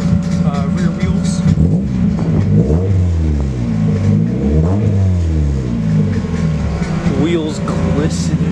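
An aging Toyota 4Runner engine revs up and down repeatedly, loud and close, with voices talking over it.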